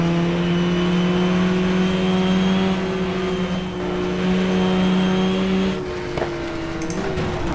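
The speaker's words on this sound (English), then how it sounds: "got a car coming up behind us" Race car engine in the GTR2 sim at Suzuka during a 1994 4-hour event, a steady loud drone with a second car closing from behind, its pitch rising slightly near the end.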